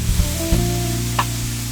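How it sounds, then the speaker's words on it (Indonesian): Goat satay skewers grilling on a hot oiled pan give a continuous sizzle with a few small knocks and shifts, loud and close, with no one speaking. "Tunggu panggangan sampai benar-benar udah panas, kita kasih sedikit minyak, lalu kita panggang satenya."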